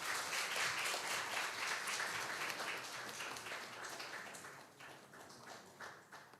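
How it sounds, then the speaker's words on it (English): Applause fills a room at a moot court award ceremony, a dense, steady patter of many hands clapping that gradually thins and fades toward the end, with no talking. "I think it should still stay full of applause"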